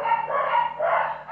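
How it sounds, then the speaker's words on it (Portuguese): Dogs bark in a run of muffled, overlapping woofs at a moderate distance on a property with a wooden chicken coop. No voices are heard. "os cachorros latindo"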